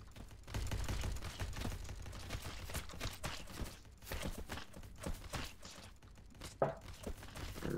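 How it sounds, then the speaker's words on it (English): Heavy machine guns fire in the Ancient Warfare 3 video game during a zombie invasion battle, dense rapid bursts of gunfire crackling almost continuously amid chaotic battle noise, with no talking. "HMGs are laying down rounds."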